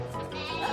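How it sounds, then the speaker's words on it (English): A cartoon sheep bleats in a brief, wavering cry, fairly close, with no one speaking. "Looks like the sheep are calling for Super Paula!"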